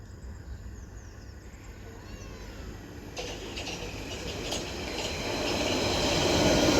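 A London Underground Central Line train passes at South Ruislip, rumbling faintly at first and then growing steadily louder, with metallic rail hiss and wheel noise building as it comes closer.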